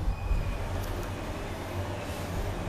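Old traction elevator built by ValmetSchlieren in 1970, running in an apartment building stairwell: a steady low rumble and hum with a faint high whine, continuous and fairly close, no talk.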